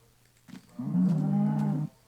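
Cow in the video game Minecraft gives a single loud, drawn-out low moo lasting about a second, preceded by a brief soft grunt, with no talk over it.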